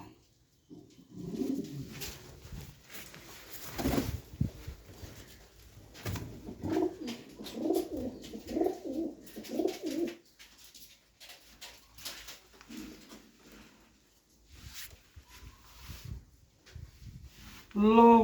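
Pigeons coo in repeated low, throaty bursts, close by, with scattered rustling and a few quiet voices around them.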